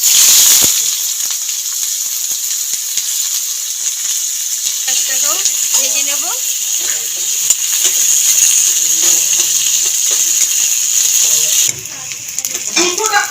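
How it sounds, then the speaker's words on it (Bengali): Sliced onions fry in hot oil in a kadai, a continuous high sizzling hiss with scattered crackles, while a few brief clinks and utensil sounds come through underneath. Near the end the sizzle drops sharply. "গরম তেলের মধ্যে দিয়ে দেবো কোচানো পেঁয়াজ"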